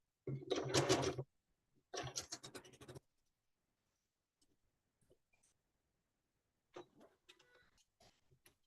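A sewing machine stitches a quilt block in two quick runs of rapid needle clatter, close and clear, followed by a quiet stretch with faint handling clicks and light rustling near the end.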